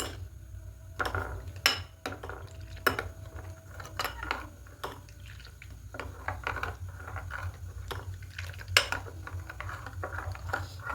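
A spoon stirs powdered milk into milk in a metal pot, giving repeated sharp clinks and scrapes against the sides over a low steady hum.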